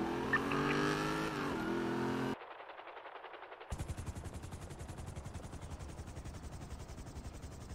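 Rapid automatic gunfire in a video game set on a highway chase with police, a steady stuttering burst of shots running under engine and traffic noise after a louder vehicle passage.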